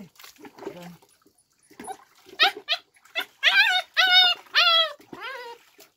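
A puppy whimpers and yelps in a rising series of high, strained cries while being bathed with warm water, with light splashing and a person talking nearby at the start.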